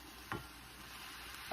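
Potatoes and green chillies fry in a pan, giving a steady, soft sizzle with two brief louder stirring scrapes, close and quiet, with no talking.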